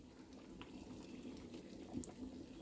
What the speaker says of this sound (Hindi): तो ग्रेवी भी हमारा बॉयल आ गया है।